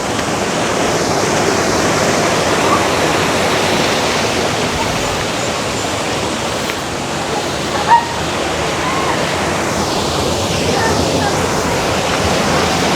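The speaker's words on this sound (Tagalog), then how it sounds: "Tapos may magandang agos ng tubig dito." Mariano River in Trece Martires, Cavite, running over rocks into small pools, a loud, steady rushing roar with a single faint knock partway through.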